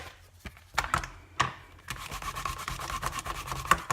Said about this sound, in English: clean off my stamp using the Stampin' Scrub